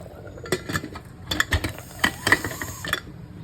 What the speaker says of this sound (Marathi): आता झाकण लावून घ्यायचं